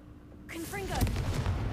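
A Confringo fire spell erupts in Hogwarts Legacy: a sudden rushing whoosh with rising, whistling tones swells into a loud, close booming blast, followed by a sustained crackling rumble.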